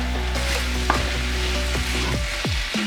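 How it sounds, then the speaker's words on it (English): Cavolo nero and potatoes are stirred in a frying pan: a loud sizzle under repeated scraping, clattering utensil strokes against the pan, close and brief. "Now add in your cavallonero. Give it a good stir."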